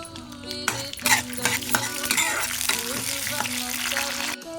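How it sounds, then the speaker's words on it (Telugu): Tempering spices fry in oil: dried red chilies, mustard seeds, cumin, chana dal, urad dal, peanuts and curry leaves crackle and sizzle loudly, with stirring and a faint background tone, before cutting off abruptly. "ముందుగా పోపు దినుసులను వేసుకొని కొంచెం ఫ్రై చేయాలి"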